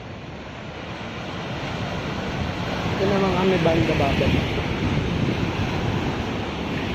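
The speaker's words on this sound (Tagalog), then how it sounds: "Lumakas yung alon." Strong ocean surf at Baler beach, a continuous roar of breaking waves with gusty wind buffeting the microphone, swelling louder midway while a person talks briefly over it.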